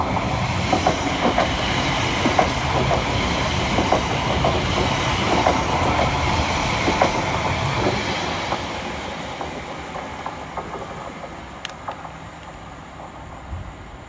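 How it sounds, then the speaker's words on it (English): Greater Anglia class 720 electric train 720-508 passes through Bruce Grove station on a diversion, a steady close rumble with rhythmic wheel clatter and faint squeal that slowly fades toward the end. "following on right behind him for Greater Anglia is 720-508, working 2H28 from London Liverpool Street through to Cambridge North"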